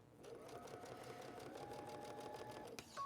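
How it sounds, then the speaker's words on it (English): A sewing machine stitching quilt pieces with a quarter-inch presser foot, a quiet, rapid, even run of needle clatter that stops abruptly near the end. "can you all see how I sewed down and went across my line?"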